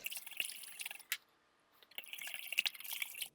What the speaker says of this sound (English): And then we'll whisk it all up until we get a gravy-like consistency.